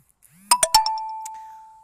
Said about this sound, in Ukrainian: мені повідомлення приходять